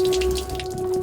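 Water running from an opened household tap in Indonesia, a steady close rush of flow without speech.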